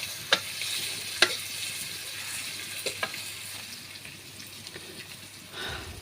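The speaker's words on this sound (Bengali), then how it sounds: "পেঁয়াজটা আমি আগে ভাজতে থাকি।" Onions frying in a pan, with a continuous soft sizzle and a few sharp spatula taps and clinks against the pan, close and unaccompanied by speech.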